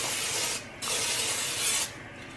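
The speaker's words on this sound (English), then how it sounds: "we're gonna spray our pan over here with some olive oil" Olive oil sprayed onto a cooking pan in two bursts, close and hissing, each lasting under a second, with a short gap between them.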